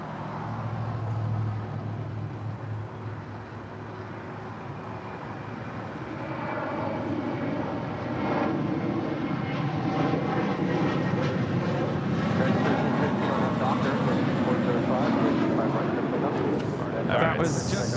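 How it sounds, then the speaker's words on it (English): JetBlue flight 324 airliner departing LAX for JFK, a broad jet roar building steadily louder over the clip with voices murmuring in the background. "That was JetBlue 324 departing to JFK."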